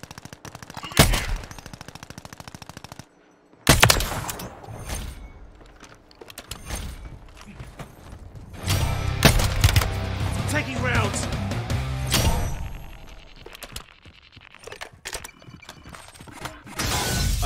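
Bursts of sniper and automatic gunfire in the battle royale game Warzone, fired from a nearby house, crack out in loud clusters between gaps, with players talking excitedly over the shots.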